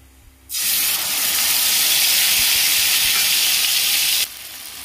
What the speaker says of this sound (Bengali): বড়া ভাজা তেলটাতেই আমি সব মশলা দিয়ে দেব, জিরে ফোড়ন দিলাম, একটা শুকনো লঙ্কা আর সব মশলা দিয়ে দেব